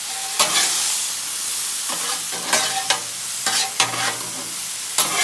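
Vegetables, zucchini among them, frying on a Blackstone griddle and being stirred, with a steady close sizzle broken by repeated sharp scraping strokes of a spatula across the flat top, about half a dozen in a few seconds.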